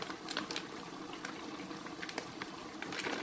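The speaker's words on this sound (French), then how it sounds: "je vais les faire tremper dans de l'eau tiède pendant 15 minutes" Lukewarm water poured over dried mushrooms to soak them, a faint, steady splashing trickle with small bubbling pops, continuous and fairly close, with no talk.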